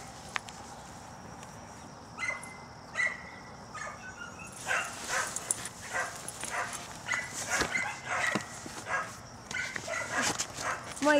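A dog barks and yips in short bursts, moderately close, with scattered footsteps and a few bright chirps, partly mixed with distant voices.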